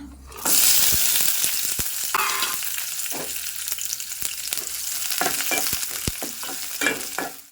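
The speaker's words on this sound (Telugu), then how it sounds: "అలాగైతే ఉల్లిగడ్డలు అయితే ఫ్రై అయినాయండి" Onions frying in a pan for a goat boti fry, a loud steady sizzle with sharp clicks of a spoon or spatula striking the pan scattered throughout, close and alone with no talking.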